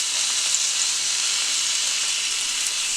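Hash browns and sausage frying in butter in a pan, giving a steady, even sizzle that holds at constant loudness throughout with no talking.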